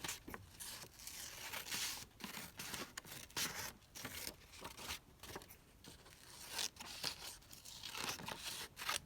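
Close, quiet paper-cutting and rustling as a paper journaling card is trimmed down for a junk journal, in short irregular snips and crinkles with pauses between them.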